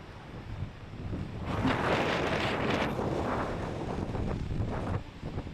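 Gusty storm wind on the Isle of Arran buffets the microphone, rising to a loud roar midway and easing off toward the end, with no one talking.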